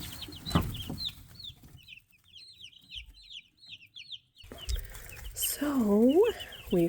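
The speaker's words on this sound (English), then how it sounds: "So these are our meat bird chicks." Young meat bird chicks in a box give high, rapid peeping chirps, close by, with a few louder calls near the end and some low handling noise.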